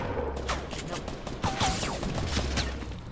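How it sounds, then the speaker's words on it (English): Gunfire in the Fortnite Battle Royale video game: several shots crack out amid steady game noise, with whooshing sweeps in between, and no talk. "Guy's gonna be shot."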